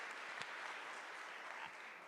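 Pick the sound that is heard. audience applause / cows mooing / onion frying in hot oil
audience applause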